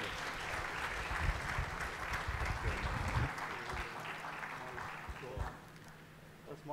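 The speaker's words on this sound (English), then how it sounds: "please give him a big round of applause" An audience applauds at a gathering honouring a guest. The clapping rises in bursts, stays moderately loud, then thins out and fades toward the end.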